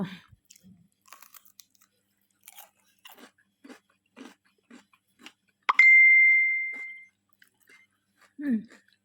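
Food being eaten alone at a table, with soft crunchy bites and chewing sounds recurring in a steady rhythm, close up, a clear bright ding ringing out midway and a short voice near the end.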